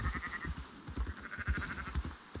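A herd of sheep or goats in an old-west video game bleats in overlapping calls over steady rumbling hoof and game noise, with no talking.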